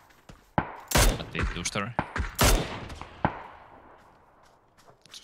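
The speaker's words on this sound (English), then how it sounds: "He's trying to shoot me." Gunfire in the PUBG battle royale game on the Miramar desert map: several sharp, loud shots and short bursts cracking in the first half, then a single later report, with players talking over the shooting.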